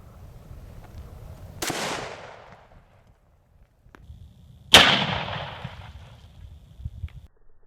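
A Model 1917 service rifle fires 30-06 M2 ball rounds at an M35 helmet outdoors, giving two loud, sharp reports a few seconds apart, each ringing out and fading into a quiet background.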